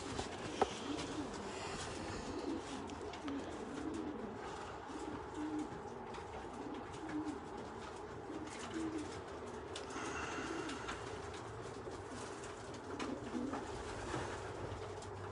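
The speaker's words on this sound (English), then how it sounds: "I want to see some sleeping pigeons." Racing pigeons coo inside a loft, with repeated soft low coos from several birds over a steady background hum and occasional faint chirps.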